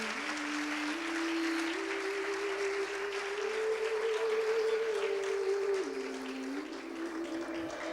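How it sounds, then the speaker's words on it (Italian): Steady audience applause at a national pastry championship awards ceremony, a continuous wash of clapping heard under a sustained musical tone that rises and falls. "E allora accogliamo con un bel applauso"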